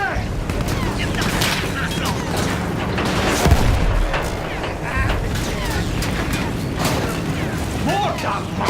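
A field gun fires in Battlefield 1 during a bridge assault, with a heavy boom partway through amid a dense, continuous din of gunfire bursts, mechanical clatter and battle noise, loud and close throughout.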